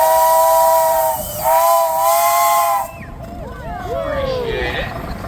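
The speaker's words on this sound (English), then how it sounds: "Any whistles, Austin?" A steam engine whistle at a steam power show blows two loud, sustained tonal blasts with a short break between them, followed by hissing and crowd chatter with people talking.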